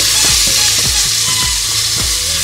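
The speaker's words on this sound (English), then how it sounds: "Saute that till it cooks and becomes golden brown." Thinly sliced onion sautéing in oil in a pressure cooker, with a loud, dense, continuous sizzle and regular stirring strokes knocking against the pot.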